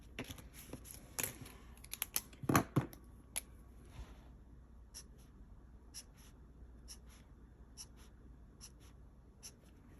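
A pencil traces along a plastic stencil on a planner page, making quiet scratchy strokes that come in short bursts and then thin to light, sparse taps. The setting is otherwise silent, with no speech.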